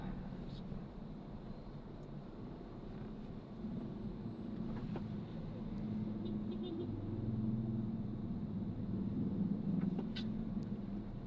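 Trucks driving along a road between San Jose del Monte, Bulacan and Karuhatan give a steady low engine rumble and road noise throughout, with a voice speaking over it.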